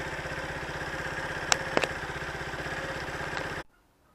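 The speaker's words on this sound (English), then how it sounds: "we're going to leave it ticking over for a bit just to get the engine warmed up" A Zontes Tiger motorcycle engine idles steadily to warm up, a close, even, rapid putter that holds for about three and a half seconds with a couple of small clicks, then cuts off abruptly.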